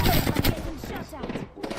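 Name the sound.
gunfire in a video game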